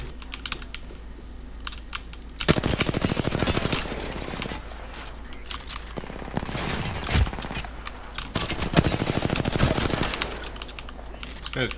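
Rapid bursts of automatic gunfire from the shooter game Apex Legends come in several loud volleys separated by quieter stretches, mixed with close keyboard clatter.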